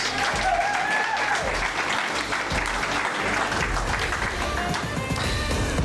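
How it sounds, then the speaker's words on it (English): A crowd applauds at a draft reveal event, loud continuous clapping with some cheering, steady throughout the few seconds with no pause. "So please, round of applause for these."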